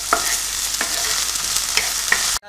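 Peas frying in a hot pan over medium heat, a loud close sizzle broken by four regular scraping strokes of a spoon stirring, with no talking.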